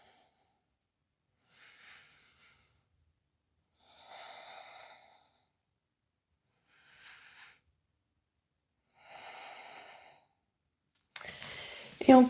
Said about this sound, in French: On va prendre quelques respirations ici.